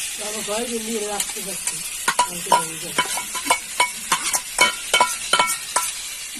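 Potatoes frying and being stirred in a pan over an outdoor clay stove, with loud, close sizzling and repeated scraping strokes of the spatula in an uneven rhythm throughout.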